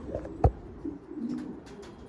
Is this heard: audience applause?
no